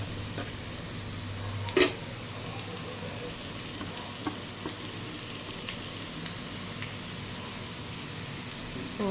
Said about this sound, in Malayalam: അപ്പം നമ്മൾ അതിലേക്ക് ഓമയ്ക്ക അരിഞ്ഞു വെച്ചത് ഇട്ട് കൊടുക്കുകയാണ്.